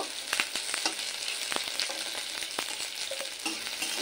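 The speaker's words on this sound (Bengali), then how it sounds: "রসুন আর পেঁয়াজটা আর একটু হালকা লাল করে ভেজে নেব।" Garlic and onion fry in oil with a steady close sizzle, punctuated by occasional spoon scrapes and stirring clinks, moderately loud and free of speech.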